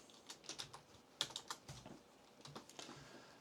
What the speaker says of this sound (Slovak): napíšem hríb